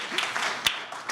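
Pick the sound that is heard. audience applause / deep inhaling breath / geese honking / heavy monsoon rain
audience applause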